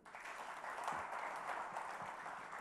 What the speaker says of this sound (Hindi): तालियां तो हो जाए।